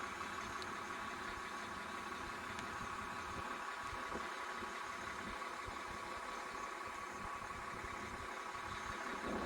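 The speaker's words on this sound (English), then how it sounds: "And there's our diesel rattling away" A diesel engine idles and rattles continuously, a faint, even mechanical drone with a steady hum and no variation or talk.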